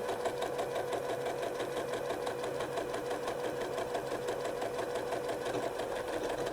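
A sewing machine runs steadily on auto repeat, stitching a patchwork seam with a continuous fast mechanical whir and needle clatter, close and even throughout with no talking.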